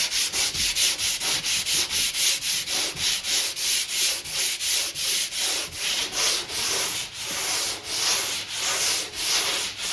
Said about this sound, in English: does this make sense that we just keep sanding until all those little dark shiny spots are gone?